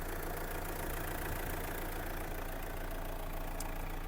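Renault Grand Scenic 1.9 diesel engine idling steadily, a continuous low rumble with a faint knocking texture, close and even, with no voices.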